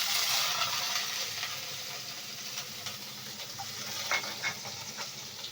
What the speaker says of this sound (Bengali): নেড়ে চেড়ে ভেজে নেব পেঁয়াজ রসুন।